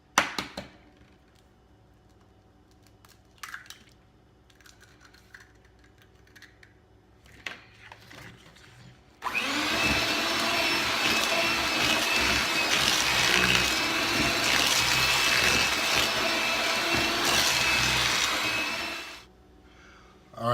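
Electric mixer beating eggs one at a time into lemon coconut pound cake batter in a bowl, a loud steady whirring that starts abruptly after quiet kitchen clatter, runs about ten seconds and then cuts off.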